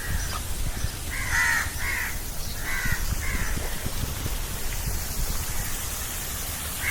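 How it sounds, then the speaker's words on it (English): Crows cawing outdoors near a resort hotel, several harsh caws in short bursts over steady background hiss, moderately close, with no talking. "Noisy crows."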